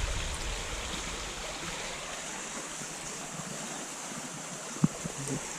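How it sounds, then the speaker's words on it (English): A creek runs through New Zealand bush in the Catlins, heard as a soft, continuous rush of flowing water from some distance, faint and even, with a single brief knock near the end. "Awesome creek down there running."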